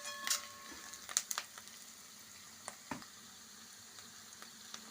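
Onions, with ginger and turmeric, fry in tempering oil as a soft, quiet sizzle, broken by a few sharp clinks and scrapes of a spoon stirring the pan.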